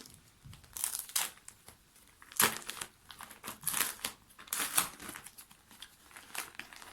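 Plastic packaging around a baby pajama set from A101 is opened up close, with repeated loud crinkling and tearing bursts across the whole stretch, with no talk over it.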